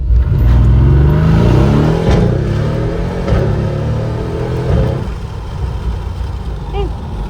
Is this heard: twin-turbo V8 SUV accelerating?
yes